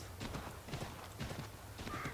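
A horse's hooves clip-clop at a steady trot in the video game Assassin's Creed III, rhythmic repeated hoofbeats with a brief whinny near the end, all faint.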